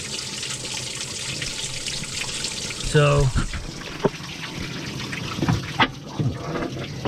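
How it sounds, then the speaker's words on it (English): Water poured over a Takeuchi TL240 compact track loader to flush out dirt makes a continuous splashing rush that runs throughout, with someone briefly talking and a few knocks and splashes. "I'll just keep pouring it around here till the water starts to come out cleaner."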